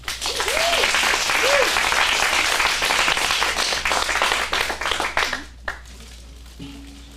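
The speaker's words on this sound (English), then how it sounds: "Let's give them a round of applause" An audience at an adult acting studio script showcase in Phoenix applauds after a monologue, steady sustained clapping from a full room that thins and fades out, with a few voices calling out over it.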